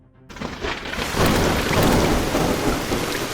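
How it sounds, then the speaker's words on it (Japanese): A sudden heavy downpour roars in with rolling thunder, rising from quiet into a dense, continuous wash of rain and low booming that stays loud throughout. "急に大雨と雷が。 いきなり土砂降りになりましたね。"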